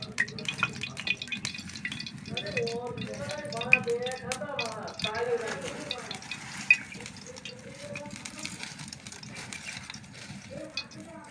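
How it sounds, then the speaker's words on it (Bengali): Hot oil in a kadai crackles and spatters in sharp little pops from a little water in it, over a constant sizzle, with a voice speaking nearby throughout. "এর মধ্যে একটু জল পড়লো তো তাই ফটফট করে ফুটছে"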